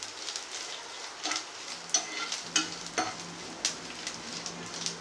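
Spices for a sambar tempering fry steadily in hot oil, a continuous close sizzle with occasional stirring scrapes and sharper crackles, nobody speaking.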